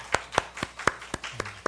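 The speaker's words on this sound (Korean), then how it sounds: "나오실 때 박수로 우리 환영하면서 힘을 내겠습니다." A few separate hand claps ring out sharply in a church service as a member comes forward to speak, about seven spaced claps at a steady beat, fairly close and with no talking over them.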